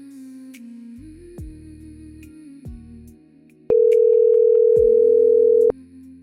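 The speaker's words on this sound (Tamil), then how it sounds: "சரி, அவருக்கு ஃபோன் பண்ணுவோம்." A steady telephone tone rings out loud and clear for about two seconds, preceded by handset clicks and brief background hum.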